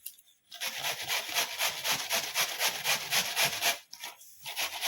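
Food is grated by hand for dhondas cooked over a wood-fired stove: close, rhythmic rasping strokes in a steady back-and-forth pattern, with a short pause near the end before the scraping resumes.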